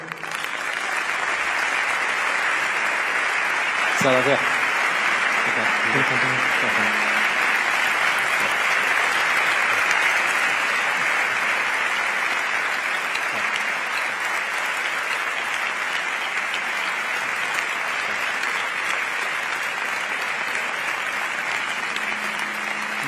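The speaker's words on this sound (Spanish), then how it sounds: "un aplauso para él" Sustained audience applause welcoming a politician onto a stage at a public event in Spain, steady and loud for over twenty seconds, with a brief spoken thanks heard over it early on.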